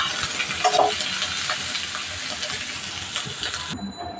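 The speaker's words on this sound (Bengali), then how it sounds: "পেঁয়াজ কাঁচা লঙ্কা দিয়ে ভাজি করতেছে" Vegetable bhaji with onion and green chili frying in a pan, a loud continuous close sizzle with crackles and stirring, cutting off sharply near the end.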